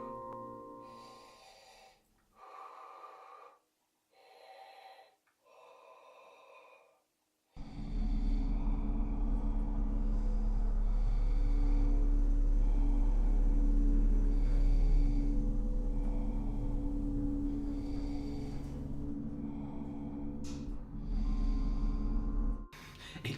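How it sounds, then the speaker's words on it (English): Heavy, slow breathing recorded through a cardboard toilet roll tube in a bathroom, a hollow, rasping rush that swells and fades across long breaths, preceded by short separate breath bursts. "To get the breathing effect I wanted from the masked men, I made a setup in my bathroom and recorded myself breathing through a toilet roll tube"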